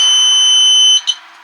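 A continuity alarm clipped onto floor heating wire during installation gives a loud, steady high electronic beep tone that cuts off, followed by a brief second chirp and a fainter tail.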